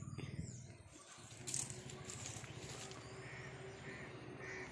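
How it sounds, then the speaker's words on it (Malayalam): A crow caws a few times at a distance over a faint background hum and rustle. "കാക്ക"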